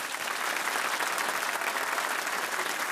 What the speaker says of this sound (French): Applaudissez moins fort parce que ça nous dérange